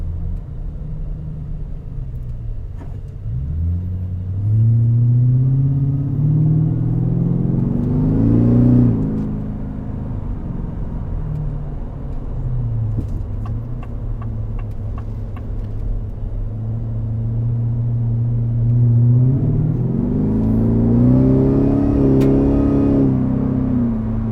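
A 2024 Ford F-150 Raptor R supercharged pickup engine rumbles low, then revs up twice in long rising surges, deep and close with a faint supercharger whine on top.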